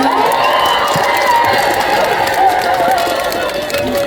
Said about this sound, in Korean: 큰 박수 한번 맞주시겠어요